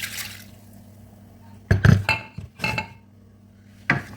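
Rinse water mixed with blended pepper and onions is poured into a soup pot, heard as a few short splashing, clattering bursts with quiet gaps between them, close by, no voices.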